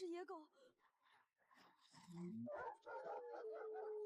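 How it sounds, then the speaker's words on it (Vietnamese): Stray dogs howl and yelp in a rural village setting, drawn-out wavering howls rising and falling over several seconds, mixed with voices speaking at the same time. "Đừng sợ, chỉ là chó hoang thôi."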